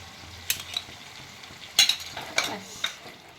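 A spice paste with whisked sour yogurt is stir-fried in a pan, giving a soft sizzle under a few clattering scrapes of a spoon against the pan, with no voices.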